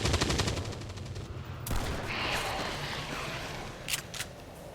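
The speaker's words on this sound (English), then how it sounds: "I love shooting this lot." Bursts of automatic gunfire rattle loudly in XCOM 2, a rapid stream of shots that cuts off and gives way to a softer rumble with a few sharp clicks near the end.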